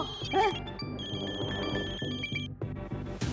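A telephone rings repeatedly in a steady electronic pattern, loud and close, with faint background noise between rings.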